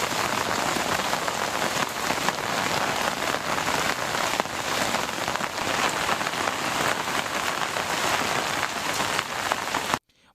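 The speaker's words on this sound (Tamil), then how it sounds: "பல்வேறு பகுதிகளில் கனமழை பெய்தது" Heavy rain pours down across districts of Tamil Nadu, a dense, steady hiss of drops striking surfaces, loud and continuous before cutting off abruptly at the end.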